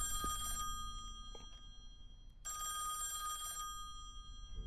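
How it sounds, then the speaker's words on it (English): An old-style telephone bell rings in the horror video game Song of Horror, two long loud bursts separated by a pause, heard clearly over quiet room ambience. "The phone."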